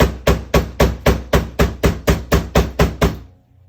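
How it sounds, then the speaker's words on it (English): A rubber mallet strikes metal wire on a hard surface in a steady run of about thirteen loud, close, evenly spaced thuds, each with a short decay, then stops. "I will hammer with my rubber mallet directly on the wire."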